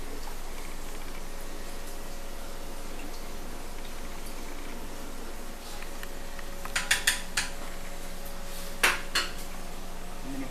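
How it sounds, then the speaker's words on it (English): A spoon stirs chicken and dumplings with brown onion and carrot in a pot, giving a few sharp metallic clinks and scrapes over a steady low kitchen hum, with no talking. "Give this a stir, make sure everything's on the bottom is up to snuff"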